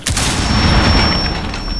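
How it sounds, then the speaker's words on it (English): Rapid gunfire in the Rainbow Six Siege video game during a bomb-defuse round, a dense, loud burst of overlapping shots sustained for nearly two seconds with no speech over it. "Whoa, gunfire? Where's he?"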